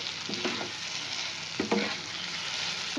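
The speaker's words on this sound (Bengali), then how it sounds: "আমি দিয়ে দেবো ডিমটা, আবারও 2-3 মিনিট একটু কষিয়ে নেবো ডিমটা দিয়ে।" Eggs frying in egg curry masala as they are stirred in the pan, a steady sizzle with a few soft scrapes of the spoon, close and moderately loud, with no voices.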